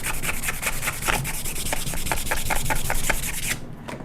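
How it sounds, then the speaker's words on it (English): Rhythmic scratchy rubbing of sandpaper on a homemade lightsaber, steady back-and-forth strokes at close range, stopping abruptly near the end. "a little bit of sanding work."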